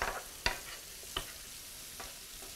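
Food sizzles softly in a pan with a steady frying hiss, punctuated by a few sharp clicks and scrapes of a utensil stirring, quiet and close.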